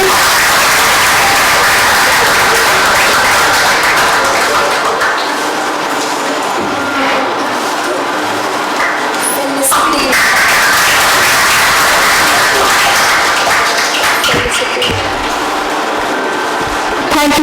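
An audience at a college Rotaract Club CPR training workshop applauds loudly and continuously for about seventeen seconds, a dense close wash of clapping with faint background voices.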